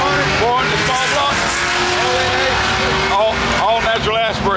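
A front-engine dragster with a naturally aspirated 400 small block running on alcohol roars loud and close at a drag strip, its engine note rising and falling in sweeping pitch while a voice talks over it.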